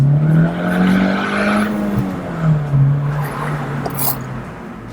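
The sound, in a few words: supercharged 2013 Honda Mugen CR-Z driving and accelerating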